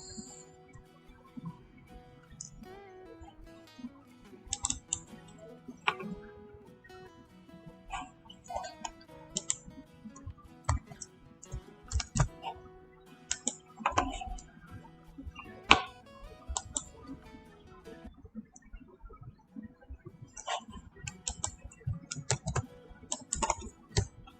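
Typing on a computer keyboard while entering a spreadsheet formula, with sharp close key clicks in irregular bursts and pauses over a faint background hum.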